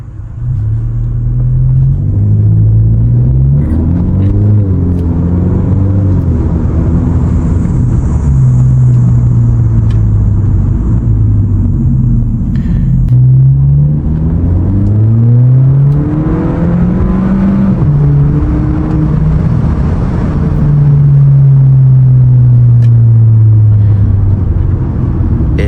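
An Audi, just back on the road after a gearbox failure, accelerates in sports and manual mode, its engine note rising and dropping repeatedly as it shifts up through the gears, a steady close rumble with no talking.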